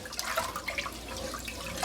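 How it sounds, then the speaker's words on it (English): Cold tap water runs steadily over rice being rinsed and scrubbed in a kitchen, a continuous splashing wash with small bright drips and swirls, close and fairly loud, no talk. "I'm just going to rinse with cold water until the rice water is clear"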